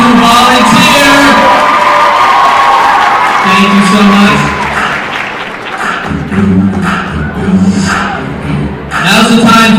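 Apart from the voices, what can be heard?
audience applause and cheering for volunteers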